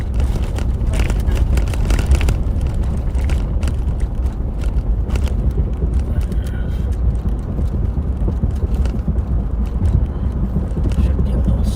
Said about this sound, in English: If you're hearing some rattling now, that's because we're on Pennsylvania, which has a lot of potholes